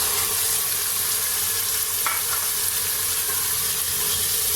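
Black chickpeas roast in hot oil in a pan, a loud constant frying hiss filling the whole stretch, with one brief faint clink partway through and no voices.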